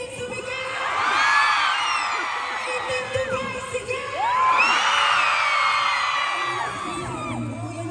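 Big arena crowd at a world tour concert in Dubai cheering, whooping and screaming in two loud swelling waves, with a dip between them and faint talk near the end.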